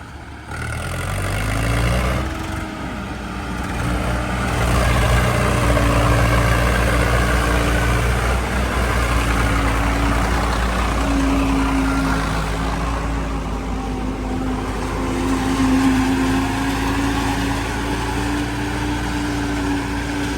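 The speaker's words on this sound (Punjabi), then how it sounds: "ਬਾਕੀ ਸਾਊਂਡ ਕੁਆਲਿਟੀ ਵੀ ਟਰੈਕਟਰ ਦੀ ਐਨ ਓਕੇ ਆ" A tractor driving a maize machine chugs steadily in a loud, close drone that rises in revs after a low start, with a sustained hum and harmonic whine holding for the whole stretch and no voices.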